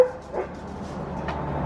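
A dog barks and howls at cats, with a few short yipping calls near the start and again about a second later, fairly close and moderately loud over a steady low household hum.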